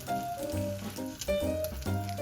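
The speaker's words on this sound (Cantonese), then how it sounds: "我哋可以攤開啲燒肉煎佢一陣" Chunks of Cantonese roast pork spread out in hot oil in a wok sizzle steadily and close, the crackle running continuously beneath a layer of steady tonal background sound.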